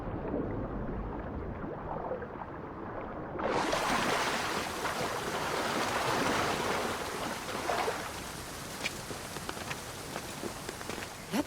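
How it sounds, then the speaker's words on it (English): A video game waterfall roars as a steady, broad rushing wash of water. It swells louder partway through, then settles into a constant splashing roar with no talk. "This is the waterfall."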